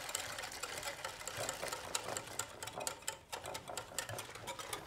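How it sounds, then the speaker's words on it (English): A whisk beats hot chocolate pudding base in a pan in rapid, continuous metal-on-pan clicks and rattles, close and steady throughout with no pauses. "You see how I continually whisk and I never stop vigorously whisking."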